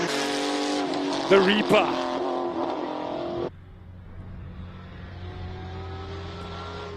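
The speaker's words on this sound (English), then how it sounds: "number 45, gets off the start line. Woo! We got the super aggressive GT3." A super aggressive GT3 race car leaves the start line at a Cape Town hillclimb, its engine roaring loud and close with harmonic revs for about three seconds before dropping off sharply into a distant drone, a voice calling over it.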